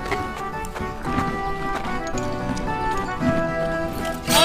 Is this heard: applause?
no